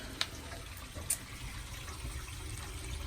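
Water drains from a kitchen sink after a basket strainer stopper is popped, a steady close rushing wash with a couple of sharp clicks near the start.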